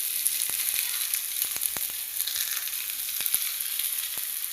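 Masala akki rotti cooks on a banana leaf over a low flame, giving a steady, close, hissing sizzle with scattered small pops and crackles throughout.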